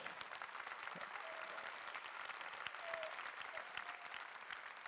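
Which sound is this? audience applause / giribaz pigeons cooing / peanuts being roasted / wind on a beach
audience applause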